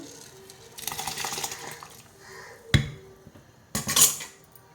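Soaked rice pours and splashes into a pot of boiling water, with a sharp metallic clank between two bursts of pouring.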